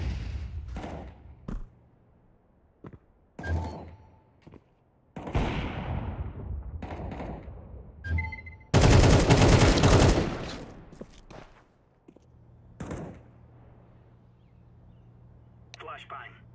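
A flashbang grenade thrown in Counter-Strike 2 on the Mirage map, a loud, sharp burst that rings for about a second amid scattered gunshots and thuds, with voices talking around it.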